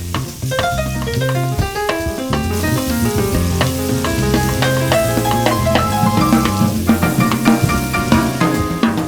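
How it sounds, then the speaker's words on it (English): Chopped bacon and onion frying in a pan, a steady close sizzle with stirring that runs the whole time beneath prominent background music. "I'm gonna render all the fat out of the bacon and get it all nice and crispy"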